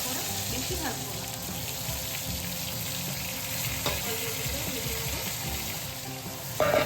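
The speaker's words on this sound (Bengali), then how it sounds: "এবার কেটে রাখা বেগুনগুলো গরম তেলে দিয়ে দিলাম।" Eggplant pieces fry in hot oil with a steady, dense sizzle and crackle close by, holding at an even level throughout with a few brief clinks.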